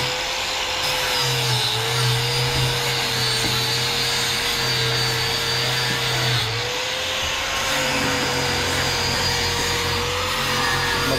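Sandpaper rubbed steadily on wood for a pigeon loft and aviary build, a continuous loud scratchy hiss with a buzzing machine-like hum running underneath throughout.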